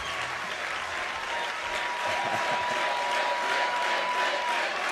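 Sustained applause from a large conference audience at CPAC 2012, dense steady clapping filling the room for several seconds with a faint hum underneath and little talk.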